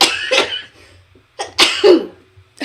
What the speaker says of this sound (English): I know there was a sneeze in there.